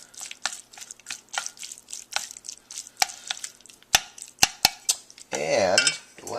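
Spicy sesame ramen noodles being mixed in a bowl, with a run of sharp clinks and scrapes of a utensil against the dish, then a burst of wet stirring at the end, all close and clear.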